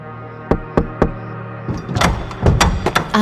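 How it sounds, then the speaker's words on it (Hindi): Light knocks on a door: three sharp, separate raps close by, then a busier patch of bumps and taps, with no one speaking. "उसके दरवाजे पर एक हल्की सी दस्तक हुई"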